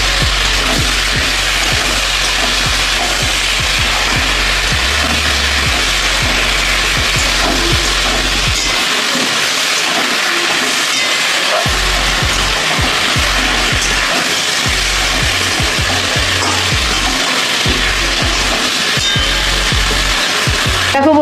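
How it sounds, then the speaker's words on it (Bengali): Potatoes and ridge gourd frying with salt, turmeric and ginger-cumin paste in a pan, a loud, steady broadband sizzle with clattering stirring and scraping throughout, no voices. "এবার এইগুলো দিয়ে আমি আলু ঝিঙেটা কষিয়ে নেব।"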